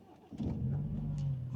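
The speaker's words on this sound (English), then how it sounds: "let's start the engine" A BMW E89 Z4, just fitted with a fresh battery, cranks briefly and catches, then settles into a steady, close engine idle with a low drone.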